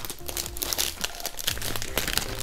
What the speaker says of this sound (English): Let's unwrap this new laptop from HP.